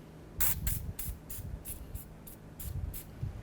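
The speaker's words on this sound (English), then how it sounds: "let's go ahead and spray this down with some penetrant." Short hissing bursts from an aerosol can of penetrant sprayed onto front brake parts of a 2006-12 Ford Fusion, about eight quick sprays in a row with brief pauses between them, fairly close.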